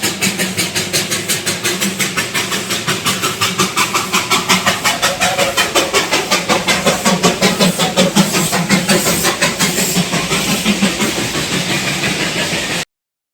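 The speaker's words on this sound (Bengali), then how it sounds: "ঘুম মনেস্ট্রি থেকে বেরিয়েই টয় ট্রেনের দেখা পেলাম" The Darjeeling toy train engine passes near Ghum Monastery with a steady, loud rhythmic chuffing that keeps an even beat throughout, over a low rumble of the running engine.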